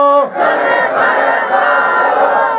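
A crowd at a Bengali Islamic religious gathering answers a takbir call with a loud, sustained collective shout, voices merging into one swelling roar after a brief lead-in tone.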